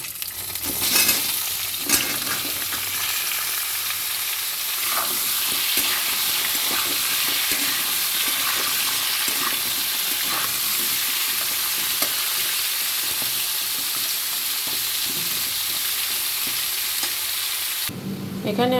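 Vegetables fry in hot oil in a wok with a continuous loud sizzle, broken by repeated scraping stirs throughout, no voices over it.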